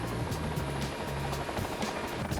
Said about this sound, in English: This is a simulated tail rotor failure, in which the pilots have to practice a technique that allows them to land an aircraft with a failed tail rotor.